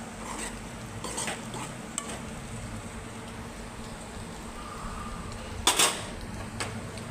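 Spatula stirring okra and egg fry in a pan, with soft continuous sizzling and scraping through the whole stretch and a brief louder clatter near the end.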